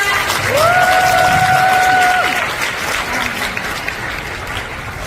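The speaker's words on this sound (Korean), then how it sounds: "박수 부탁드립니다." Applause from the audience at a promotion ceremony, dense and steady clapping with a couple of bright shouted cheers early on, continuing at an even level before easing slightly toward the end.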